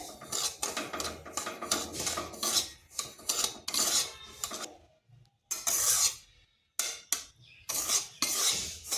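Amul packet milk being stirred into a semolina milk cake mixture, a spoon scraping and clinking rhythmically against the pot in bursts with short pauses between strokes.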